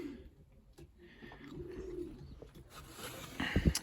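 A plump young pigeon being handled gives soft, low cooing, faint and close, with a little rustling and a brief louder sound near the end.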